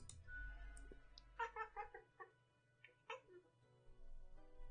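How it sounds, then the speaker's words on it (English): A cat in the video game Death and Taxes gives a sequence of short, contented meows, several separate calls spaced irregularly over a faint background hum. "A sequence of contented meows."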